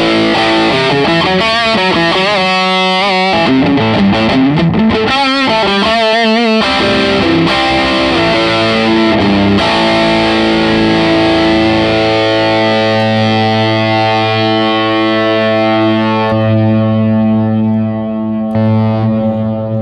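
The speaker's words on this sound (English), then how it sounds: "let's turn on just an over distortion" An electric guitar plays loud, sustained chords through an overdrive distortion pedal on a pedalboard, with thick saturated tone and ringing notes that hold and slowly fade near the end. No voices.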